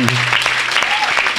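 Congregation at a French-language evangelical worship service breaking into loud, dense applause and cheering, a steady wash of clapping that fills the whole moment, with brief voices mixed in.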